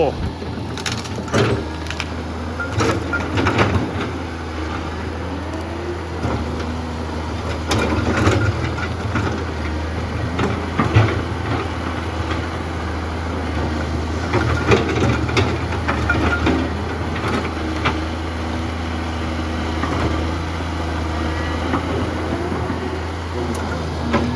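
A Komatsu PC200-3 excavator's six-cylinder turbo diesel engine idles with a steady low rumble throughout, while someone talks over it at intervals.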